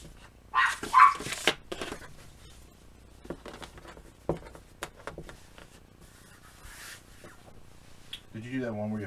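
A dog barks in short, sharp bursts and whimpers now and then, close by. A person talks over it, with quieter gaps between the barks.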